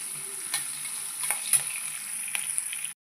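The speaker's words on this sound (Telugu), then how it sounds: "ఇప్పుడు కొంచెం ఇంగువ, పచ్చిమిర్చి, కరివేపాకు కూడా వేసుకొని బాగా ఫ్రై చేసుకోవాలి." Asafoetida, green chillies and curry leaves sizzle in hot oil for a tangy mango pulihora tempering, a steady close crackle broken by a few scraping stirs, then an abrupt stop.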